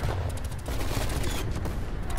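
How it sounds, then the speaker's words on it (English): Light machine gun fire in a first-person shooter video game, a dense rapid crackle of shots with booming gunfire layered over a busy battle mix, continuous for a couple of seconds. "with a light machine gun"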